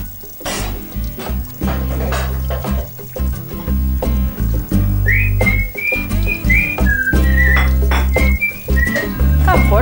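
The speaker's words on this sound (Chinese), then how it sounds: "干活的时候怎么还吹口哨啊？" Someone whistles a bright, wavering tune while doing housework, the melody rising over running tap water and kitchen clatter, with a few sharp knocks.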